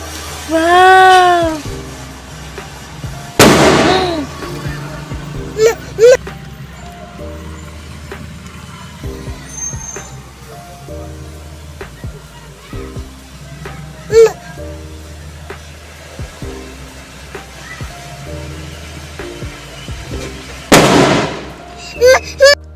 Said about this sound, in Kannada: ಎಷ್ಟು ಪಟಾಕಿ ಹೊಡಿತಾಳೋ ಏನೋ ನೋಡಬೇಕು